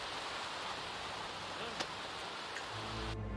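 Rain falling in The Sims 4: Seasons makes a steady, soft hiss of drops on surfaces, with a faint tap and a low hum rising near the end.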